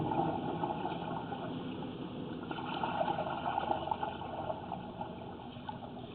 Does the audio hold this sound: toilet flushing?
yes